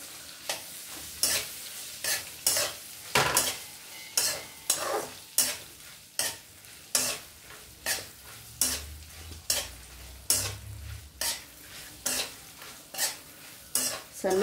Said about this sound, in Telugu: సన్నపు సెగ మీద వేగించుకోవాలండి